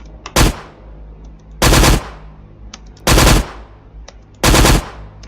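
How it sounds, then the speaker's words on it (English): A standard-issue rifle fires in the sci-fi shooter game SciGun: four loud, evenly spaced bursts of rapid automatic fire, each trailing off into a short ringing decay with quiet gaps between. "when I'm firing my guns, they actually kick me back"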